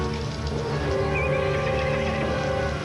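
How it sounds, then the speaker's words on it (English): Loose horses neigh and whinny close by, a loud drawn-out call over rumbling background noise with faint hoof clopping, set on a frontier mountain. "Horses are loose."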